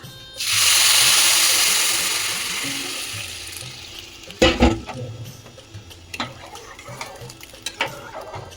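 Water splashes into a pot of frying pulao and bursts into a loud hiss that slowly fades, followed by scattered clinks and scrapes of stirring.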